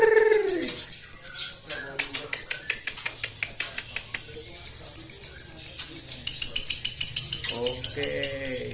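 A caged white-rumped shama (murai batu) sings a bright, high warbling song with repeated chirps and trills, fairly close, with soft low voices and background noise beneath.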